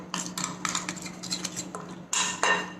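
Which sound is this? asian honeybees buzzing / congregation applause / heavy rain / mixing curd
mixing curd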